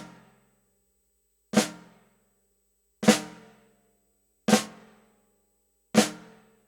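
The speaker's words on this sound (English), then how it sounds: "it's going to be a left side flam." Left-side flams struck on a drum, four crisp, evenly spaced hits about a second and a half apart, each a soft grace note smeared into a louder primary stroke, ringing briefly in an otherwise silent room.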